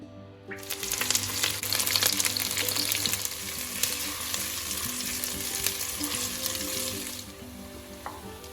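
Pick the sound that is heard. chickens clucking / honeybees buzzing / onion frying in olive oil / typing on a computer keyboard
onion frying in olive oil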